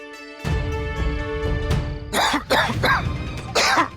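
A man coughs, a few sharp, close bursts following a brief low throat sound, in a quiet indoor setting.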